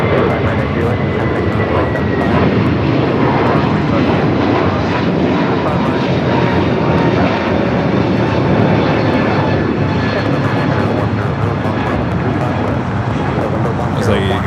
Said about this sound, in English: There's a United A321 Neo taking off